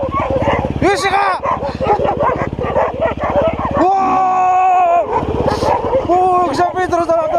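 Several dogs bark, yip and whimper close by on a mountain trail beside a KTM 390 Adventure R motorcycle, in repeated bursts with someone talking over them throughout.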